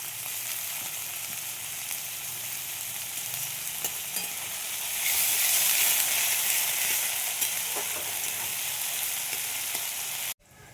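Two medium onions frying in a pan, a continuous soft sizzle with occasional stirring taps, swelling briefly louder in the middle before cutting off abruptly near the end.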